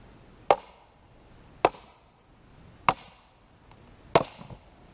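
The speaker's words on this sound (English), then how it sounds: "when you stick the maul in, you can just beat it with the other maul" Wood being split by hammering one maul driven into a log with another maul: four sharp, loud metallic strikes about a second apart, with quiet gaps between them.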